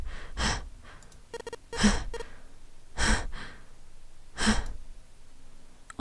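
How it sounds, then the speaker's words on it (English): A video game character breathes heavily and gasps, with four loud, spaced breaths and sighs standing alone against a quiet background. "Then he began to hear his own breathing."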